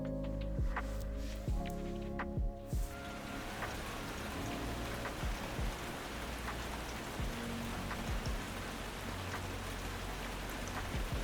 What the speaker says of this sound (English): now it's raining non-stop. Can you even hear it?